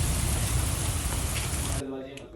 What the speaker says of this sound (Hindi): तुम तेज बारिश हो रही है।